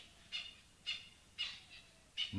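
Repeated harsh, rasping spurfowl calls, four bursts spaced about half a second apart, fairly faint against a quiet outdoor background.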